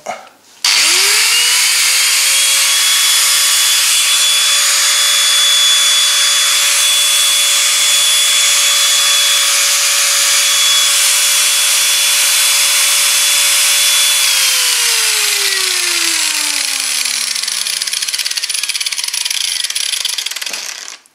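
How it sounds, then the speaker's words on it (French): An angle grinder running on power from a solar generator spins up quickly, holds a loud, steady high-pitched whine for about thirteen seconds, then winds down gradually as the disc coasts to a stop. "Donc ça c'est une meuleuse, disqueuse, comme vous voulez."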